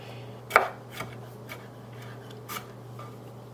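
Knife chopping food into smallish pieces, not a fine mince, with a handful of sparse, separate knocks on the board, the first one loudest, against a quiet steady hum.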